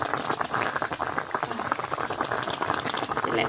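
Thin Bengali fish curry broth made with American rui and eggplant bubbles at a steady rolling boil, a dense close simmering crackle that runs continuously without pause.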